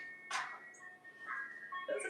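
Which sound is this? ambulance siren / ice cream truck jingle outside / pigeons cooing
ice cream truck jingle outside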